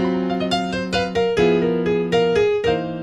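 A blues piano plays riff number 9, a rhythmic run of fat, dissonant chords struck in a steady pulse, close and clear, with no talking.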